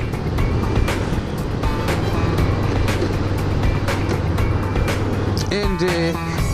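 A Daelim motorcycle engine while riding, a steady rough drone under strong wind buffeting, with a brief rising rev near the end.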